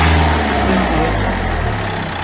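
A car engine is run at idle and given throttle during a MAF sensor measurement, a steady low rumble that swells slightly then eases, close by in a workshop, with no talk over it.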